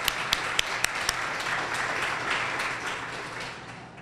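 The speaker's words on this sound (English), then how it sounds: "So let's give them all a round of applause." Audience applause for the organizers of the first BioTech Expo, a dense wash of clapping with a few sharp louder claps early on, steady and fairly close throughout.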